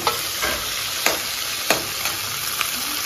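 Onions sauté in a pan for crab soup, a steady close sizzle broken by a few sharp scrapes of a spoon stirring the pan, with no voices.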